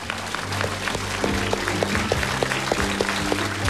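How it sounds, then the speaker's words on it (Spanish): Studio audience clapping on a TV game show, a lively rolling applause with distinct individual claps popping out near the mic, over a low background hum. "Ahora sí, vamos a darle un cariñoso aplauso a Annette Kuburu"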